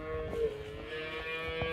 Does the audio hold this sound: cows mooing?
yes